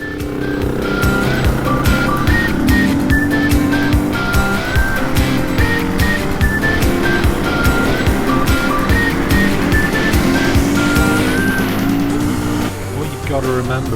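Race cars lapping a track, engines roaring loudly and steadily with rising and falling revs and gear changes, a continuous close motor drone fading slightly at the end.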